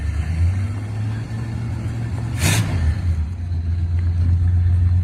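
A 1969 Plymouth Road Runner with loud exhaust idles with a deep, throaty rumble, then gives one sharp rev midway before settling back to a lumpy idle, close and alone.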